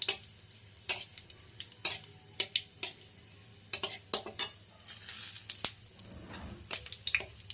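Cumin seeds and dried red chillies fry in hot oil with a close, steady sizzle, broken by frequent sharp clinks and scrapes of a spoon stirring against the pan.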